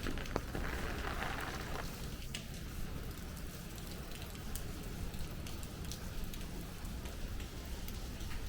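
Heavy rain pours and drips off street scaffolding in Brooklyn between Bath Beach and Coney Island, a dense, even hiss with scattered sharper drops throughout.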